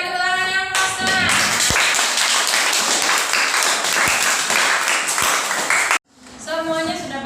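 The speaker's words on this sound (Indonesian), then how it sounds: "Berikan tepuk tangan yang puasnya." Classroom audience clapping after a group discussion presentation, a dense sustained round of hand claps with some louder single taps, cutting off abruptly; a voice speaks before and after.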